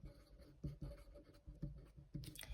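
A pen writing on a board or paper during a Turkish high-school biology lesson, with short bursts of scratchy strokes in an uneven rhythm and quiet pauses between them.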